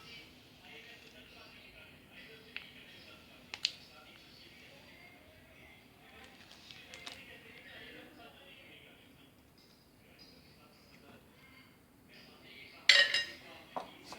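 Ketchup mixed into a chicken cutlet mixture in a bowl: sparse, faint spoon clinks and scrapes against the bowl, ending in a louder cluster of clatter near the close.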